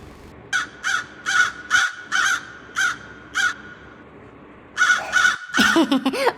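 A crow caws repeatedly in a steady series of harsh calls, a pause, then a few more caws, clear and fairly close.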